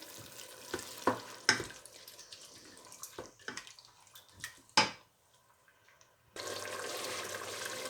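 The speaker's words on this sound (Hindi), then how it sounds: "ये लहसुन और मिर्ची, कूट के लहसुन रखा था 1 चम्मच, अदरक। इनको अच्छी तरह भून लेंगे।" Sporadic scraping and clinking of a spoon stirring chillies, crushed garlic and ginger in a pan, with soft background noise, then a steady sizzle rises near the end.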